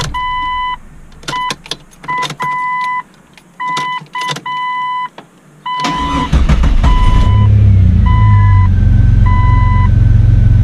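Several short electronic chimes and clicks, then a 2001 Jeep Cherokee XJ engine cranks briefly after new spark plugs and catches, settling into a loud, steady running rumble.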